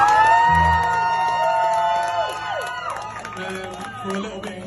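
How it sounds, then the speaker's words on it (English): A crowd at an EP launch party cheers, whoops and claps loudly. Sustained tones ring out at first and then fade, and the clapping and shouting carry on after them. "we should all just take a moment to celebrate and cheer for getting to this moment"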